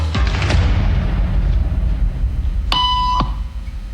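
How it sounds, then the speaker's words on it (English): A single electronic beep tone sounds in a hidden-camera social conformity experiment, a sharp, steady pitched tone lasting about half a second that rings out above a low rumbling background. "Beep means stand up."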